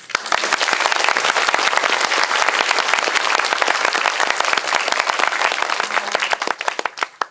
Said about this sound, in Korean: 박해일 배우님께도 여기서 네, 큰 박수를 좀